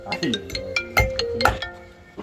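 A mobile phone ringtone plays close by as a bright, melodic sequence of chiming notes, with people speaking over it.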